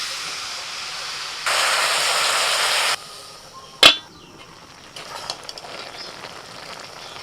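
Pumpkin greens drop into a hot pan over spices, ridge gourd and eggplant, giving a loud burst of broadband sizzle for about a second and a half, then a sharp clatter and a softer, steady frying hiss.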